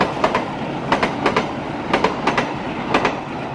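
An Indonesian parcel train rolls past close by, its wheels clacking in regular paired beats over a continuous rumble.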